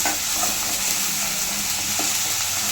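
Onion with ginger garlic paste fries in a pan for pepper chicken sukka, a loud steady sizzle with light stirring throughout and no talk.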